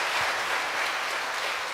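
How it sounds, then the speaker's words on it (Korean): A concert audience at a charity music event claps together to call for an encore, a continuous, even roar of many hands clapping with no voices over it. "앵콜 하기 원하는 분들은 박수 한번 쳤으면"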